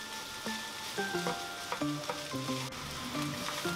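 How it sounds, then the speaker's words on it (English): Rice being stir-fried in a wok with soy sauce, carrot and onion for hibachi-style fried rice: a steady sizzle runs throughout, broken by repeated scraping and clinking of the spatula against the pan. "And now just break up your rice and stir the soy sauce and the carrot and the onion and everything into the rice."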